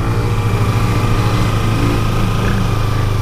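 A small motorbike engine runs steadily at close range, a loud continuous buzzing hum with no pauses.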